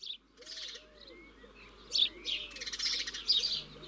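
A house sparrow chirps repeatedly, short bright calls in irregular bursts that grow livelier toward the end, close and clear with no speech.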